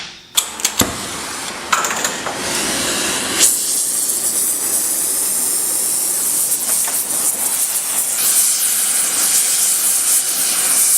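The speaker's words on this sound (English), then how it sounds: "The way I'll do this is I'll do it with a torch in a vise." A gas torch roars steadily while heating a steel scythe blade clamped in a vise, a continuous broadband hiss after a few sharp clicks at the start, close and loud throughout.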